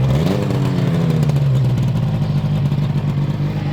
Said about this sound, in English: They make a lovely, deep, grumbly growl sound at low revs.